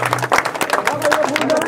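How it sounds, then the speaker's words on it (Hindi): Audience applause breaks out at a late-night village gathering in Manheru honouring an independent candidate, a scattered clapping wash mixed with a voice talking over it throughout. "भाई एक बार ताली बजाओ"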